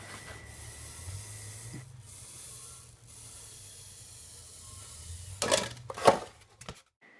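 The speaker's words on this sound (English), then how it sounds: "cutting a basic shape from the foam with a hot wire foam cutter" A hot wire foam cutter cuts Woodland Scenics foam with a quiet scratchy rubbing over a low hum, ending in a few louder abrasive rasps before it stops.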